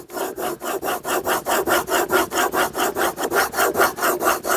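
A chisel held in a Trend honing guide is pushed back and forth across a sharpening stone as a burr begins to form, giving a loud, steady run of about twenty evenly spaced rasping strokes with no talking.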